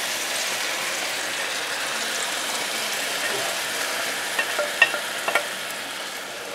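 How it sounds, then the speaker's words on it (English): Wine marinade is poured into a hot pan where rabbit pieces with cinnamon sticks are cooking, making a steady loud sizzle with splashing liquid and a few brief clinks near the end, close up with no talking. "And we're going to put our wine marinade in there"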